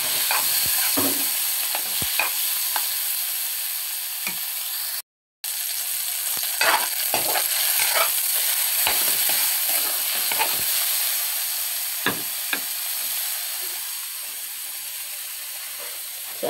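Onions and tomatoes drop into a hot frying pan and sizzle steadily, a continuous close hiss with scattered stirring clicks and scrapes, one brief cut to silence partway through.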